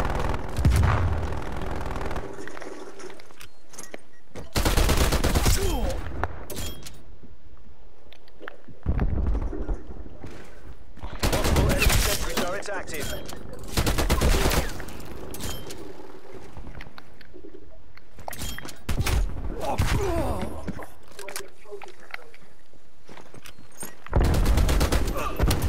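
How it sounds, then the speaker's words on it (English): Enemy sentry turrets in a video game loose repeated bursts of automatic fire, each lasting a couple of seconds with short quieter gaps between, loud and near, with occasional voices in the lulls. "Multiple enemy sentry turrets active."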